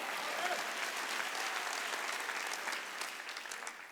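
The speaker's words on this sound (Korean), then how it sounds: "박수." A church congregation claps steadily for about four seconds, a dense sustained applause that fades slightly at the end, with no speech over it.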